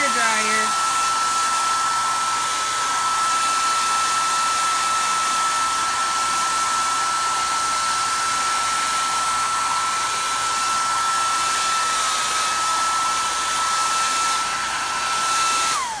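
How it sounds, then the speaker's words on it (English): A 1980s hair dryer blows steadily and loudly at close range, a constant whooshing roar with a high whine running the whole time. "I'm using my 80s hair dryer."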